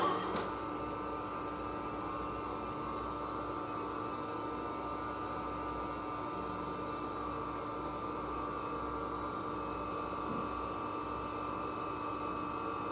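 An IBM XT computer powers up and settles into a steady, even drone of fan and drive hum with a faint high whine, close and continuous for the full stretch, after a brief louder burst at the start.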